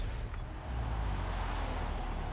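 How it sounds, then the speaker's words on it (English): A Ferrari F40 in Forza Motorsport at Road Atlanta in the rain, giving a loud, steady engine roar with dense low rumble and a brief dip before holding constant, with no talking. "Engine sounds really good."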